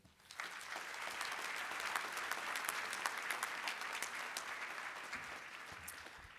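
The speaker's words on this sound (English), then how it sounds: "Give them another round of applause" A dinner audience at an Urban League annual dinner bursts into applause, a dense, sustained clatter of many hands clapping that swells after a quick start and holds steady, moderately loud, with no talking over it.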